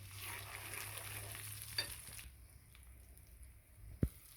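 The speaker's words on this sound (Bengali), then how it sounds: "রসুন বাটাটা ভালো করে ভেজে নেড়ে ছেড়ে নেব।" Garlic paste and dried chilies fry in a pan with a soft sizzle and a few stirring scrapes, quieter in the second half, ending with a sharp knock against the pan.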